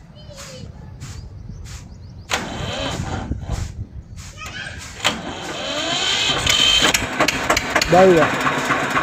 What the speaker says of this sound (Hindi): अब स्टार्ट करेगा सर, पड़ीवाल पे स्टार्ट होगा ट्रैक्टर।